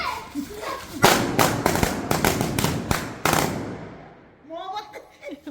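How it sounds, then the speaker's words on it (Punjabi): A string of firecracker bangs bursts close by near a lit oil lamp during a Vishwakarma festival celebration. There are about seven rapid, loud cracks in a quick cluster, with voices talking before and after. "ਦੀਵੇ ਕੋਲੇ ਬੰਬ ਕੌਣ ਲਾਉਂਦਾ ਹੁੰਦਾ"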